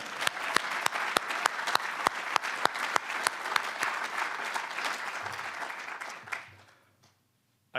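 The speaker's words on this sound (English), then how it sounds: "We can clap for that, right?" Audience applause at the United States Military Academy, a dense crowd clapping steadily with sharp individual claps standing out, then fading to near silence before the end.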